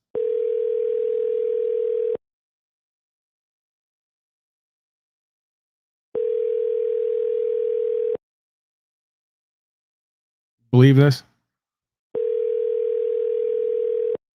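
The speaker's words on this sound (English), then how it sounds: "I'm going to let it go because it's ringing and ringing." A telephone line rings unanswered on an outgoing call, three long steady tones about two seconds each separated by silent gaps, with a brief spoken voice in one of the gaps.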